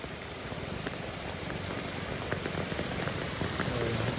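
Heavy monsoon rain pours down steadily and close by, a dense continuous hiss with scattered drops striking surfaces, during a downpour that has flooded and closed the roads.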